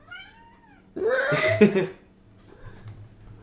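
After a thin whine, a cat lets out one loud, drawn-out meow close by in a quiet room.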